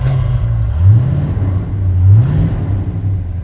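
A Mopar car engine revs loudly and close by, rising and falling in pitch through two surges as it accelerates.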